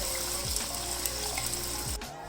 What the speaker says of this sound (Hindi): इसके अंदर मैं 3 कप पानी के डाल दूँगी, जो कि मैंने नाप करके रखा हुआ है, ये इसमें चला जाएगा